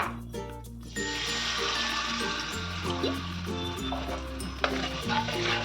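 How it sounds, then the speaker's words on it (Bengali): A khaman dhokla tempering mixture is stirred in a pan, a faint sizzle with light stirring under steady background music. "ভালো করে এটাকে আমি একটু নেড়ে দিচ্ছি"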